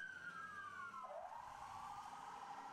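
An emergency vehicle siren wails alone and at a distance, its tone sliding downward and then holding steady across a few seconds.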